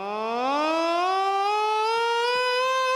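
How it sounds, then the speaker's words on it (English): A hand-cranked siren winds up from a low growl to a rising, steady wail, loud and alone. "Crank the siren."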